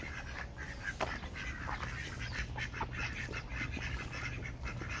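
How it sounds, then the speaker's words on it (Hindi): Small ducks quack softly and repeatedly at a modest distance, short calls scattered over a steady outdoor background hum in a date palm orchard in Madinah. "ये छोटी छोटी बतखें"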